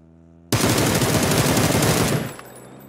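Sustained burst of automatic rifle fire in the battle royale game PUBG, one loud, rapid, unbroken spray lasting about one and a half seconds before cutting off into a short tail.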